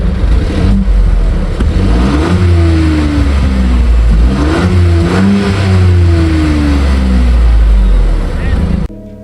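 A 2025 facelifted Peugeot 2008 with twin exhaust pipes revving repeatedly, loud and close, its engine note rising and falling in several blips over a steady idle before cutting off.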